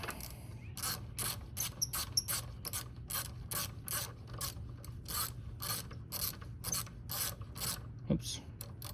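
Rapid clicking of a ratcheting tool tightening a part onto the front wheel of a ZeroSR electric scooter, about a dozen evenly spaced close clicks over a low steady hum, with no talking.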